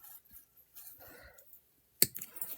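Small heart-link gold jewelry chain being cut: faint handling rustles, then one sharp, close metallic snip near the end, with no talking.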